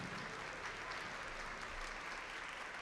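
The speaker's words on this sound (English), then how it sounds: "Can you give them a huge round of applause?" Audience at a district event's opening ceremonies giving alumni a round of applause, a continuous even wash of clapping heard from some distance.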